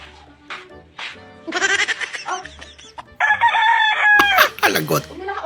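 A rooster crows loudly and close, a long strained call near the end, after some clucking and scattered barnyard noises.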